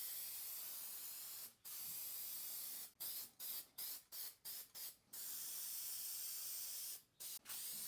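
Aerosol spray paint hissing onto Jeep rock sliders in long steady bursts, then a rapid series of short, clipped sprays with brief pauses between them, close and loud.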